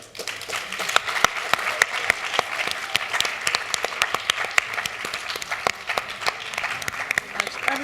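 Audience applause after a conversation with Dr. Eddie Glaude Jr. at a Junior Scholars Program, a room full of clapping with sharp individual claps standing out through the steady wash, sustained throughout.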